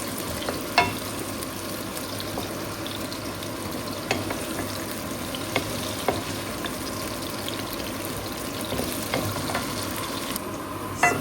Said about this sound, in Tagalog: Yan na, ginisa kong sibuyas at bawang.